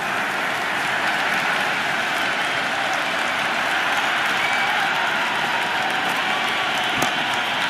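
Crowd in a cricket stadium during an India vs Australia match in the video game Cricket 26, a dense, loud, steady roar of applause and cheering sustained throughout with no talk.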